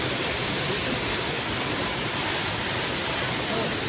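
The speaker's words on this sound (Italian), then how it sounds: "Ci sono delle bellissime cascate." The Ourika waterfalls in Morocco pour in a constant, loud, broad roar of rushing water, close by and unbroken.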